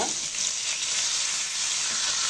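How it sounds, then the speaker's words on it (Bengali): Pangas fish pieces frying hard in hot oil in a pan, a steady dense sizzle that fills the whole stretch at an even, close level with no pauses and no talk. "মাছগুলো ভালো করে ভেজে নিতে হবে, একটু কড়া করে ভেজে নিতে হবে।"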